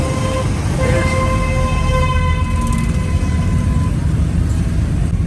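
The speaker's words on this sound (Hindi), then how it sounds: "हॉर्न मारने वाले किसी भी शहर में हो वो मारेंगे" Long, steady vehicle horn blasts sound over dense, rumbling street traffic in Sialkot, several tones overlapping and held for seconds.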